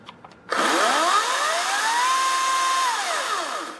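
Ryobi 40 volt brushless chainsaw revving up from a few faint clicks into a loud electric whine that climbs in pitch over about a second, holds steady, then begins to wind down.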